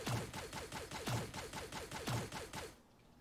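Rapid automatic gunfire from a first-person shooter video game, a steady string of sharp shots at even rhythm for nearly three seconds before it stops, moderately loud and with no talk over it.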